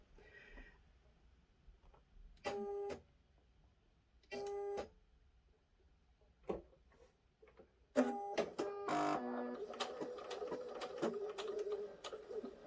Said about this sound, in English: So I will go ahead and start sewing.